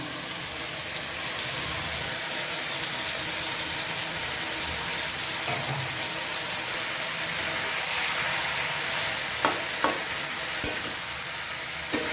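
Fish roe cooks in a pan with taro stolons for a katla fish curry, giving a steady, close hiss and sizzle that holds throughout. A few sharp pops and clicks come near the end.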